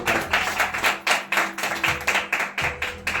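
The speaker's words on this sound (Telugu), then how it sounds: "చప్పట్లు కొడదాం దేవుడికి." A church congregation claps for God during a sermon, a steady run of quick handclaps in close bursts that fill the hall loudly with no talking over them.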